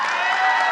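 Brief, steady wash of applause from a conference audience at a criminal justice innovation event, moderately loud and evenly dense, with no speech over it.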